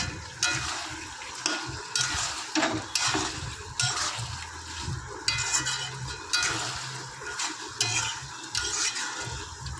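Chicken curry is stirred in a pot as it cooks. The spoon scrapes and clatters in repeated bursts against a low simmering sizzle, close up, with no one speaking.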